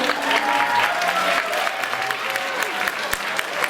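An audience claps steadily through a dense, continuous round of applause at a Christmas ball in a Hilton hotel ballroom. It is a full crowd heard up close, with no talk over it.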